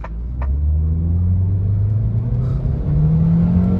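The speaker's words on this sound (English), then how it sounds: "we're gonna go ahead and do a hard acceleration." A car of roughly 98 horsepower accelerating hard, its engine droning loud and steady as the pitch climbs, drops at a gear change and rises again, with a couple of faint clicks early on.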